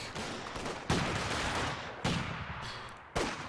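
Gunfire in the Company of Heroes 2 video game, a dense rattle of shots in a 1v1 match, with three sharp, louder bursts spaced about a second apart over steady crackling.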